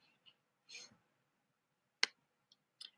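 A computer mouse clicking a few times, with sharp, close, isolated clicks spaced across a few seconds in a quiet room.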